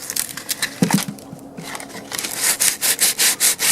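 A small wooden child's chair is hand sanded with coarse 40 grit sandpaper, producing rhythmic rasping scrapes, irregular at first, then regular back-and-forth strokes, close and fairly loud.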